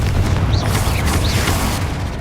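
A Confringo fire-blast spell from Hogwarts Legacy goes off as a dense, sustained booming rumble with crackling bursts and hissing sweeps, loud and steady throughout without speech.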